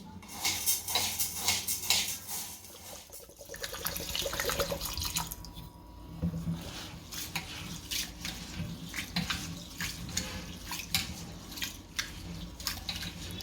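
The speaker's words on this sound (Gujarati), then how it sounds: "આ રીતે સફેદ પાણી નીકળે ત્યાં સુધી ધોઈ નાખશો." Rice and dal are washed by hand in water, giving close splashing, swishing and dripping sounds with light knocks against a vessel, all fairly quiet and irregular.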